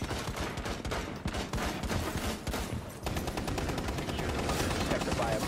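Video game gunfire rattles in loud, rapid automatic bursts that run nearly nonstop, with only a brief dip or two between volleys.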